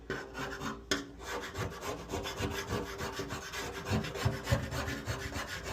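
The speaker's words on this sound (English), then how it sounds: "we're just going to take our screwdriver, and we're just going to sort of chisel this stuff off here" A screwdriver scrapes and chisels dried, hardened plumber's putty off a garbage disposal flange in a series of quick, close, rasping strokes with an uneven rhythm.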